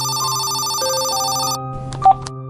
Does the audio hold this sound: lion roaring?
no